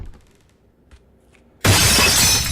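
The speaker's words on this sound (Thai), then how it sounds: "เสียงกระจกแตกจากไหนอะ" Glass shatters suddenly and loudly after a quiet stretch, a dense, bright crash that keeps ringing and scattering to the end.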